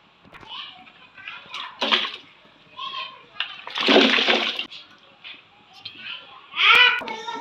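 Beef trotters dropped into a pot of boiling spiced water give two loud splashing bursts between stretches of talking.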